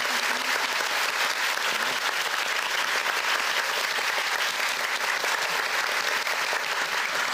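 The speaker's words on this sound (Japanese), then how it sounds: "そのスタッフさんに大きな拍手をお送りしたいと思いますので" A theater audience applauds the production staff at the close of a stage play, a thick, continuous wash of clapping that stays loud and even throughout with no voices on top.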